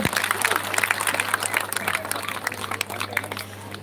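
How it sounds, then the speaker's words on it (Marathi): Audience at a Ganesh idol consecration and ceremony gathering in Bedag clapping together, a dense, steady patter of applause with crowd noise and a constant low hum underneath, sustained for a few seconds. "जोरदार टाळ्या वाजवायच्या त्यांच्यासाठी सर्वांनी"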